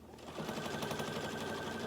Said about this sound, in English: you shouldn't have a problem just doing it on a regular sewing machine